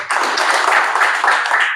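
Audience applause and clapping for a speaker at an open mic event, a steady dense wash of hands lasting under two seconds, fairly loud and without talk over it.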